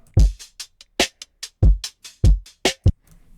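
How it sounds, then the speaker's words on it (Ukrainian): A dry drum pattern loops with punchy kick thumps and crisp snare and hi-hat hits in a brisk, even rhythm, close and unadorned. "Без обробок цей луп звучить ось так"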